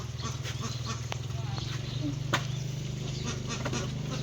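Ducks quack faintly now and then at a distance over a steady low background hum.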